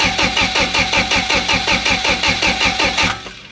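A Toyota Altezza engine cranks with its injectors and coils removed, the starter churning in a loud, even rhythm of about ten beats per second without catching, then cutting off abruptly at the end.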